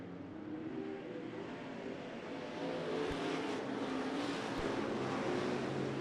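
Race cars at Bakersfield Speedway roar down the back straightaway toward turn three, a steady, fairly distant engine drone with crowd-like wash that swells slightly midway.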